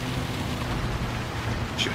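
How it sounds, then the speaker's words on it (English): Steady rain hisses across a track in Gran Turismo 7 during a race with Gr4 race cars and a Suzuki Swift road car, a continuous dense wash with engine rumble beneath and a brief brighter spatter near the end. "How long is this raining for?"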